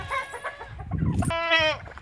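Farm chickens and turkeys let loose outdoors, giving a couple of close, loud clucking and squawking calls in quick succession over about two seconds.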